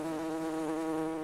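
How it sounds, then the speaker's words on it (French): Close, continuous buzzing of a bee or wild bumblebee at apple blossoms, a steady harmonic drone with slight wavering pitch, no other sounds. "Les insectes pollinisateurs, tels que les abeilles ou les bourdons sauvages, participent à la fécondation des fleurs de pommier."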